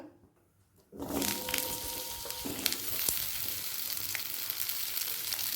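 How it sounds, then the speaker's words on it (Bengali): Potato pieces hit hot mustard oil in a kadai after a second of near quiet, bursting into a loud, continuous sizzle with faint crackles and an occasional clink, close up, no voices. "আলুটা প্রথমে এক মিনিট ভেজে নেব"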